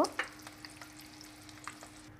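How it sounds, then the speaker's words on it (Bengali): Eggs frying in oil over medium heat for an egg and potato curry, a close steady sizzle with a few sharp pops and spatula scrapes scattered through, no voices. "তারপর মিডিয়াম আঁচে আমি ডিমগুলো হালকা ভেজে নেব।"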